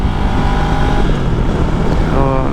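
A 2022 Honda CB500X motorcycle engine pulls hard uphill after a downshift, a steady close drone with rising harmonic tones, mixed with heavy wind rush across the microphone.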